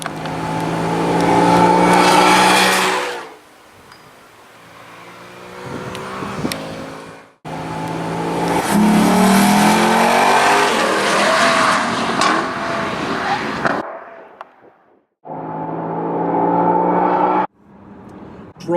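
A Lexus LC 500 with its V8 engine roars through several bursts of hard driving and acceleration, loud and close, separated by brief near-silent gaps, with faint tyre noise and no voices.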